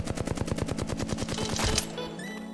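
Rapid automatic gunfire from a weapon in the video game Apex Legends, a steady burst of evenly spaced loud shots for nearly two seconds, then a ringing tail as the firing stops.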